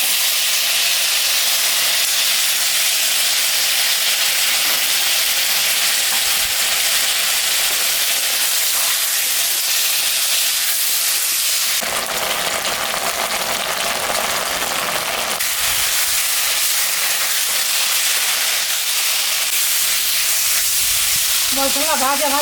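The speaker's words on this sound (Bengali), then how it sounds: "মশলা ভাজা ভাজা হয়ে গেছে" Ginger, cumin and dried and green chillies frying in hot oil for a thin singhi fish curry, a loud, constant hissing sizzle that briefly changes tone midway, close and sustained without speech.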